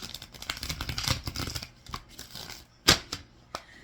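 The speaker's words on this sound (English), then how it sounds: "let's give it one more shuffle." Tarot cards being shuffled up close: a flurry of rapid papery riffling and flicks, then a few sharp isolated snaps with quiet gaps between.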